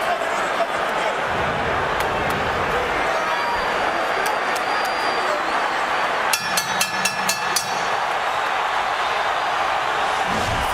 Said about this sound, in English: Crowd starting to get into it, sensing